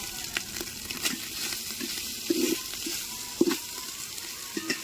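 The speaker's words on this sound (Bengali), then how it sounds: "ভাতগুলো হাঁড়ির মধ্যে দিয়ে দিচ্ছে অল্প অল্প করে।" Rice hitting hot ghee in a cooking pot gives a steady close sizzle and crackle, with a few louder stirring scrapes and bursts as it is added a little at a time, and no talking.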